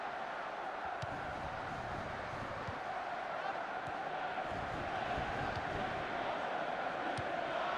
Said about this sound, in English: Great passing, and the crowd really enjoying it.